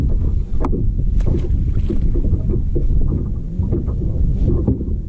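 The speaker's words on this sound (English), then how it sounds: "So the wind is a little crazy right now" Strong gusty wind blows across Bibb County Lake and roars into the microphone as a loud, constant low buffeting with rumbling surges and faint water noise. No one speaks.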